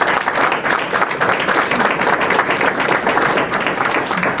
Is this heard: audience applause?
yes